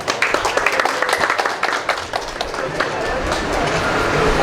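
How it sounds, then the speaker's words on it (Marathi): Crowd applause ringing out at a health camp to welcome and honour guests, a dense, steady burst of many hands clapping that carries on for several seconds, with voices mixed in. "टाळ्या वाजवा."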